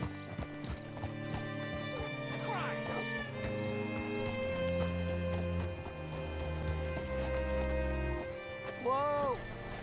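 Rhythmic clip-clop of horse hooves in Red Dead Redemption 2, steady under background music, with a horse's whinny near the end.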